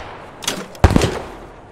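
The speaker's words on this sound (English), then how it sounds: "Adjust fire. You're firing directly into 505. Bring that gun right." Artillery gun firing in the video game Post Scriptum, heard as one heavy, close boom with a short rumbling tail, preceded by a softer thump.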